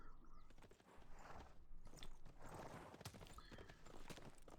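Horse hooves clip-clop in a busy strategy video game, with several overlapping hoofbeats under a dense bed of battle noise and clatter.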